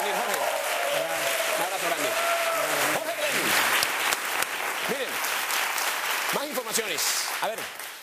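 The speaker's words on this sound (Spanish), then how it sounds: "un aplauso para Jorge" Studio audience applause on a Venezuelan television show after a live band with double bass and trumpet, sustained clapping running under a voice and bright musical tones throughout.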